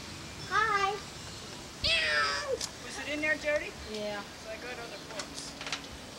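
A cat meows repeatedly, several rising and falling cries close by in a quiet room, with a few shorter mews trailing off at the end.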